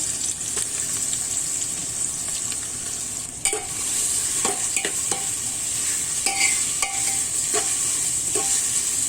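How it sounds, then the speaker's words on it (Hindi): Onions fry in oil in a pressure cooker for kaleji salan, a loud continuous sizzle broken by the scrape and clatter of stirring. "प्याज को ब्राउन होने तक पकाएंगे।"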